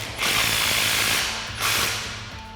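Ratchet wrench with a 21 mm socket and swivel tightening a steering flag nut on a Jeep Gladiator JT, two bursts of rapid close clicking separated by a short pause.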